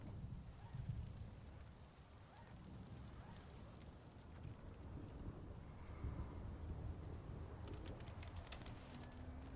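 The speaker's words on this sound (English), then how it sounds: "Another storm coming in." Storm rolling in during the survival game Stranded: Alien Dawn, with low rumbling thunder and a steady wash of rain and wind, faint and continuous with a few soft higher rustles.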